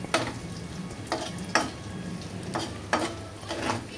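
Chicken curry stirred in a hot pan, a low sizzle under five or six distinct scraping strokes of a spoon at a loose, uneven rhythm, with no talking.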